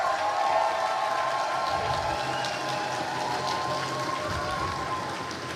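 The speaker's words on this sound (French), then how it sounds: "je vais vous demander de faire un tonnerre d'applaudissements pour Madame Seit" A large audience at a master's degree graduation ceremony keeps up a steady, dense round of applause, like a wash of rain, sustained evenly and slowly tapering at the end.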